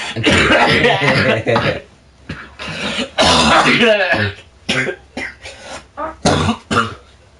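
A person coughs and clears their throat in short, rough bursts, mixed in with loud casual conversation between several people nearby.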